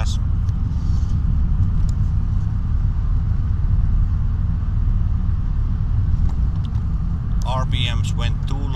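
An Audi A8 1.2 TDI diesel engine drones steadily at low revs as the car climbs a hill under throttle, a constant close rumble with a voice breaking in near the end.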